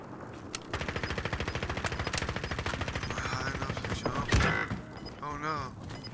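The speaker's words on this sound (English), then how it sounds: "Someone's shooting at him hot." Rapid automatic gunfire rattles in a long, even burst during a Call of Duty Modern Warfare battle royale match, with sharper individual shots and a heavy impact midway and a voice talking briefly near the end.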